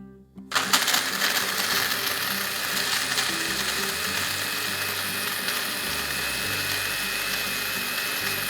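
A kitchen blender starts abruptly and runs at high speed grinding nuts for a salad, a loud, steady, harsh whirring roar with a rattling, gritty texture throughout, no voices.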